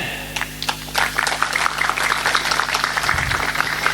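An audience at an Islamic religious lecture claps together, a dense steady patter of hands that holds at moderate loudness throughout with no talking over it.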